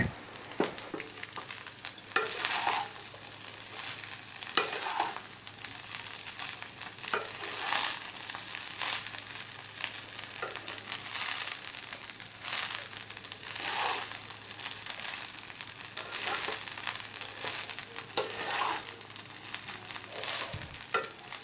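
Cooked rice with cumin and butter stirred in a hot pan, rhythmic scraping strokes roughly every two and a half seconds over a constant soft sizzle, close and moderately loud, no voices.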